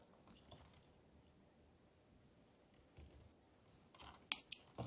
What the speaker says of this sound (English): you can just go ahead and cut your yarn off